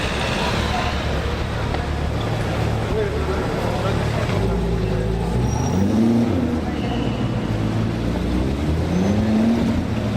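Corvette sports car passing on a Monaco street during Grand Prix weekend, a loud continuous engine roar with rising and falling pitch sweeps as it drives by, amid steady traffic noise and crowd chatter.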